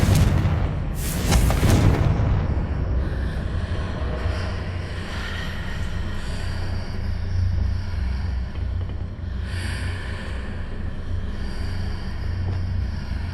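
Confringo fire spell blast in the PS5 game Hogwarts Legacy: a loud booming explosion bursts out near the start, then a rumbling, crackling tail rolls on steadily for several seconds with no talk.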